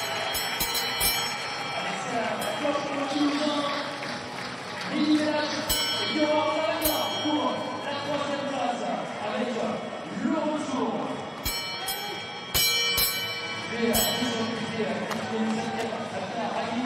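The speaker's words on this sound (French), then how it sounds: "La cloche va retentir les 400 derniers mètres pour Djilali Bedrani." Bell rings for the last lap of a men's 3000 m steeplechase at a French athletics championship, repeated sharp clangs in bursts over crowd noise and commentary.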